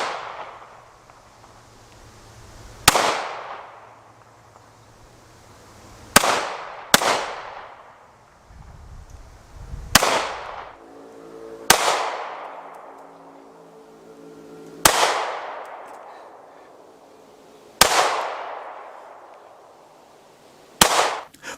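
Taurus GX4 9mm pistol fired in a limp wrist test, eight loud, sharp shots at irregular intervals, each ringing out with a decaying echo outdoors.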